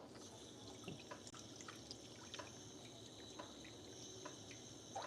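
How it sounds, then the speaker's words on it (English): A knife is rinsed under a running tap in a kitchen, a faint, steady trickle of water with small drips and splashes, no voices. "just go ahead and rinse it off."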